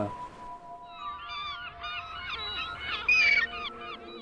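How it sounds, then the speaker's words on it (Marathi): A flock of seabirds calls noisily with repeated honking, nasal cries overlapping one another, fairly close and continuous. "कलरव करत उडणारे समुद्र पक्ष्यांचे थवे"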